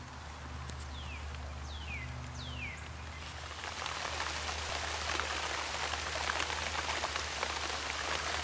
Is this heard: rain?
yes